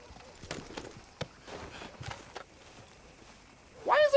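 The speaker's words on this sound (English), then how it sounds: "Why is there a wild horse here?" Horse hooves clip-clop in the Red Dead Redemption 2 video game as a wild horse moves along a road, a series of irregular soft thuds, with a louder sharp sound at the end.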